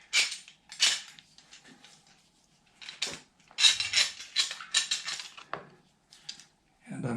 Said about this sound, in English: I'm going to put a clamp across here just to pull it in snug, and then clamp these down.